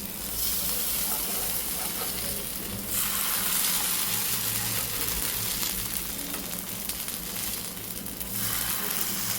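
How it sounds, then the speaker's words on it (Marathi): Patties shallow frying in a pan give a steady, close sizzle and crackle throughout, with brief brighter bursts of spitting oil; no one speaks. "मस्त असे शॅलो फ्राय करून घेऊया"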